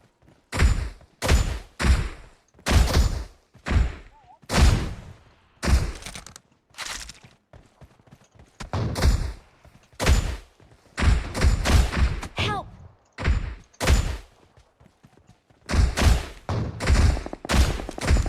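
Repeated bursts of gunfire from players shooting at each other in the mobile battle royale game PUBG Mobile, sharp broadband shots in clusters across the whole stretch, with brief gaps and quieter background game ambience between.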